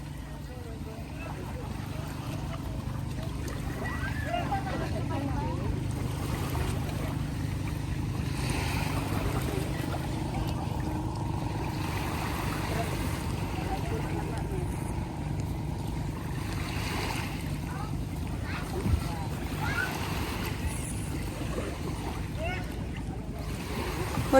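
A small boat rocks on open sea while island hopping in Bohol, with a steady wash of waves and wind buffeting the microphone. Faint voices sit low in the background.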